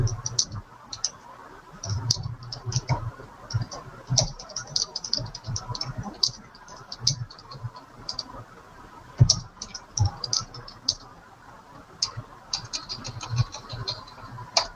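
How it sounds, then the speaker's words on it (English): Rapid bursts of keyboard clicks, close and crisp, coming in irregular runs with short pauses between them. "See how it's changing right as I'm typing?"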